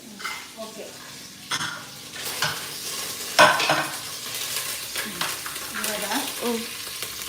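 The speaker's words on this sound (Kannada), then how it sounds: "ಈರುಳ್ಳಿ ಹಾಕ್ತಾ ಕರ್ಬೇವಿನ ಸೊಪ್ಪು ಹಾಕಿದೆ ಈರುಳ್ಳಿ ಹಾಕ್ತೀನಿ" Onion and curry leaves sizzle in a frying pan, with a steady frying hiss broken by stirring scrapes and a sharp clink, and someone talking over the cooking.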